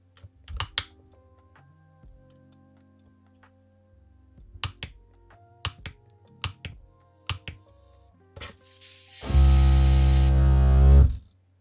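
Airbrush being set up for the first time, compressed air hissing through its nozzle in a loud, steady burst near the end, after a stretch of sharp clicks and taps from adjusting the knob.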